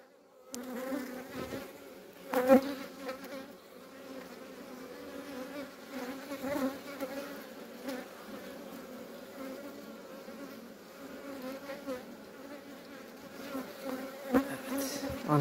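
Honeybees buzz steadily around an open beehive during a hive inspection, a continuous close drone with occasional louder passes and light handling knocks.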